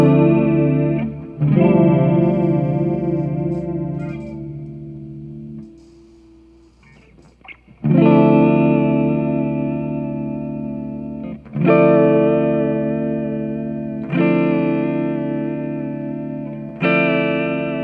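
Electric guitar chords through a Walrus Audio Julia V2 chorus pedal ring out with a shimmering, wavering chorus effect, several strummed chords sustaining and decaying one after another, with no talking.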